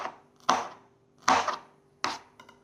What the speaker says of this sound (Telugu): నెక్స్ట్ పచ్చిమిరపకాయని కూడా మనం కట్ చేసేయాలన్నమాట, చిన్న చిన్న పీసెస్ కింద.